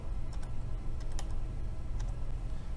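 Fingers tap a computer keyboard in a short burst of quiet, irregular keystrokes over a low steady hum.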